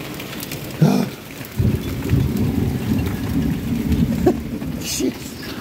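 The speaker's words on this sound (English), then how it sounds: "quite the rainstorm" A heavy rainstorm pours down steadily in a wash of noise, with a couple of low rumbling bursts that suggest thunder, and faint voices mixed in.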